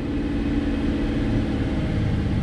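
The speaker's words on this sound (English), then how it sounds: "So it does fire right up though, and it does idle beautifully." Willys jeep engine idling, a steady low mechanical rumble with even pulses, close and continuous with no voices.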